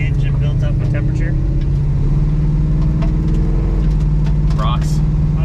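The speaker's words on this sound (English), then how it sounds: "Get the engine built up with temperature." Chevrolet Nova engine running while cruising, a loud steady low rumble throughout with a brief shift midway, and people talking over it.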